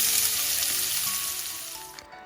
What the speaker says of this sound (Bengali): এবার আরেকটু তেল দিয়ে এতে আমি দিয়ে দিচ্ছি 1 কাপ পরিমাণ পেঁয়াজ কুচি।